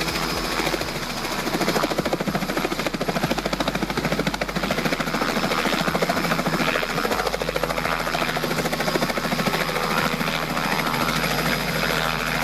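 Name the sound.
Robinson R88 helicopter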